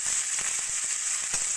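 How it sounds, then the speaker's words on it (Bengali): Sliced onion and garlic frying in hot oil, a bright constant sizzle close up with small crackles and pops scattered through it, no voices. "পেঁয়াজ রসুনটা একটু ভাজা ভাজা করে নেব।"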